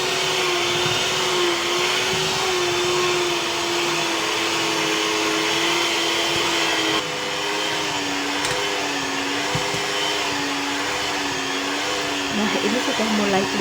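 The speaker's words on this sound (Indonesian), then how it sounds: "Mixer sampai benar-benar kalis." An electric stand mixer kneads burger bun dough at high speed, a loud steady motor whine with a slowly wavering pitch running continuously throughout.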